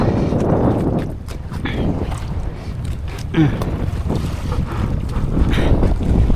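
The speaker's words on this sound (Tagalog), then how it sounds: "Malakas ang hangin dito pala." Strong gusty wind at sea during night fishing buffets the microphone in a constant loud rush, with boat and water sounds underneath.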